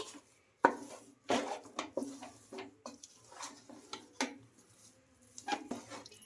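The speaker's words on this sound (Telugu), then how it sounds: "ఇదే సాల్ట్ని కూడా వేసుకొని మొత్తం ఇలా బాగా కలిపేసుకుందాం" Coconut poori dough with salt is stirred in a pan, producing quiet irregular knocks and scrapes of a spoon against the pan, close and soft with small gaps between strokes.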